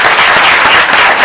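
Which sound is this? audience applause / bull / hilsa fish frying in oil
audience applause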